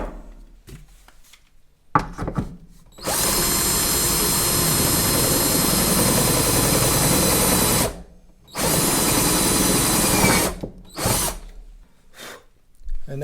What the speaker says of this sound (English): So let me go ahead and drill out the second one.